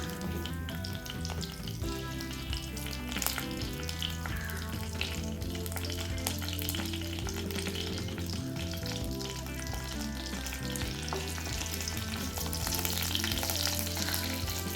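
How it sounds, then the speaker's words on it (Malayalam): Dried red chillies, curry leaves and mustard seeds crackle in hot coconut oil as a tempering for Kerala pineapple pulissery, a continuous close sizzle with popping, underlaid by soft background music. "എന്നിട്ട് ഇതിലേക്ക് വറ്റൽ മുളകും കറിവേപ്പിലയും കൂടെ ചേർത്ത് നന്നായി മൂപ്പിച്ചെടുക്കുക."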